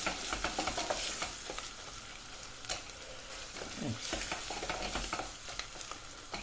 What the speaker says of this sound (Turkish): Şöyle domates, biber salçamı da biraz yağda kavurayım.